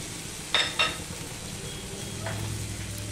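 Turmeric, salt and chili powder frying in a pan, a soft steady sizzle with two sharp utensil clinks early on and a low hum underneath.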